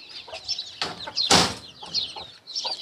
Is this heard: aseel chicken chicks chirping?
yes